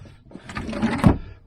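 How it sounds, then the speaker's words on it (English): A kitchen drawer slides once in a micro camper built into a Citroen Berlingo, a brief, close, scraping rumble that peaks near the end before settling back to quiet. "The drawer's in there and working."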